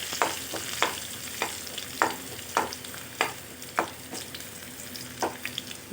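Coarsely ground garlic sizzles steadily in a hot pan for green chili chivda, with about a dozen sharp scrapes and knocks of a spoon stirring through it at an uneven rhythm, close and clear, with no talking.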